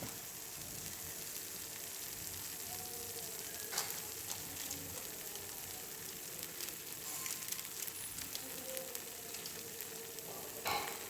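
Masala gravy for a raw banana curry sizzles and fries steadily in oil while being stirred, a continuous close crackle with occasional scraping of the spoon against the pan.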